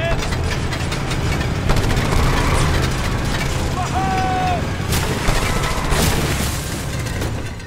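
Gunfire and explosions in the Just Cause 2 video game, with dense rumbling booms and bursts of shots over a constant engine-like roar, loud and continuous throughout.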